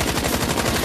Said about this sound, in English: Those bullets aren't going to fire themselves.